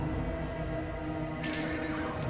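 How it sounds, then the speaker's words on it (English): Horses neigh and stir in the dark fantasy video game Darkest Dungeon 2, a short whinny rising over a dense, sustained musical backdrop with a brighter burst of sound midway. "Oh god, the horses are moving."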